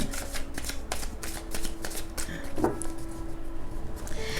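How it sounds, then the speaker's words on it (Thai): A deck of tarot cards being shuffled and laid out, with rapid riffling flutters and soft slaps of cards landing close by. "เดี๋ยวขออนุญาตวางไพ่ก่อนเลยนะคะ"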